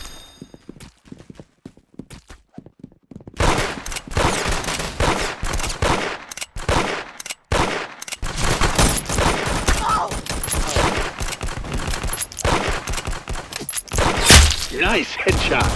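Rapid gunfire bursts in the Roblox shooter Arsenal, sparse shots at first, then dense loud volleys with sharp cracks, and voices in the mix.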